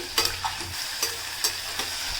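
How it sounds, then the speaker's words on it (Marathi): Onion, tomato, chili and garlic sizzle and fry in a pan while a spoon scrapes and stirs, giving several short clattering strokes over a steady hiss. "जो टोमॅटो कट करून घेतलेला तो सुद्धा त्यामध्ये आपण मिक्स करून घेऊयात"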